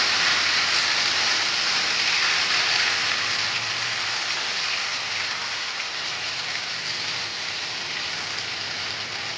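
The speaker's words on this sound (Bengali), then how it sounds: "এখন খুব ভালো মতো এটা ভেজে দেবো তেলের মধ্যে" Raw mango pieces frying in oil for pickle, a steady dense sizzle throughout, loud and close, with no talking.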